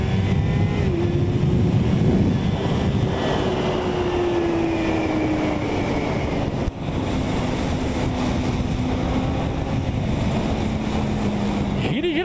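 A sport motorcycle engine revs on the road, a steady loud drone whose pitch slowly sinks over about twelve seconds amid wind rush and road noise.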